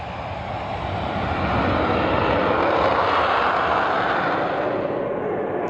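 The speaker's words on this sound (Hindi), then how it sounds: "Cabin crew, prepare for takeoff." Jet airliner taking off, a loud continuous engine roar that swells over the first seconds and holds steady, heard alone.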